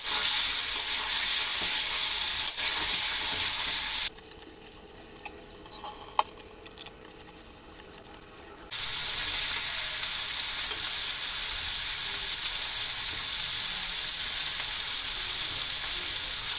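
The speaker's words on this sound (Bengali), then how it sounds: "এখন বলগুলো মশলায় দিয়ে কিছুক্ষণ নেড়ে চেড়ে সামান্য পরিমাণ ঝোলের পানি দিয়ে দেব" Meatballs sizzle and fry in a spice paste while being stirred for meatball biryani, a loud steady hiss broken by a quieter stretch with scattered clicks and scraping before the sizzling returns.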